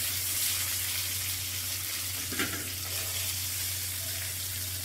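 Pointed gourd (potol) frying in oil, a soft steady sizzle over a low constant hum, with a short clink partway through as pieces are lifted out, and no one speaking.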